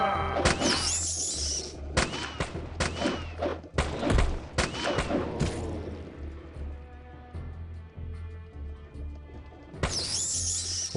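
Gunshots ring out in the Arcanum game as a rat takes a headshot, a burst of sharp loud cracks and crashing impacts clustered early, then quieter rumbling before another bright blast near the end.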